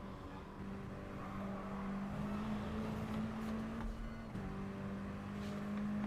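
Mini Cooper Cup race car at Goodwood rounding the chicane, a steady engine drone holding a sustained tone throughout, fairly distant, with a brief dip in pitch partway through.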